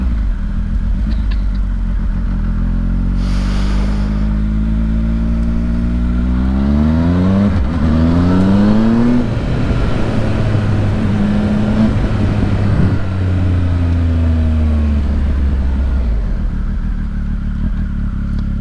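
A 2019 Triumph Speed Triple 1050 RS motorcycle engine revs hard through several gears, the pitch climbing and dropping with quick-shifter changes, loud and close without any voices.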